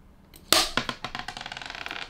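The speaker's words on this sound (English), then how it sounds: "that's the sound of clapperboard falling apart" A sharp wooden clack followed by a rapid, uneven series of smaller clattering knocks, as a clapperboard rattles and falls apart.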